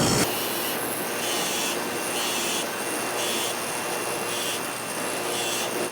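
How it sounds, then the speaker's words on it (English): Copper washers from an old wheel cylinder held against a spinning wire wheel, giving a loud, steady abrasive whir and rasp that holds for several seconds before cutting off abruptly. "Just give these a little clean on the wire wheel and freshen them up a bit."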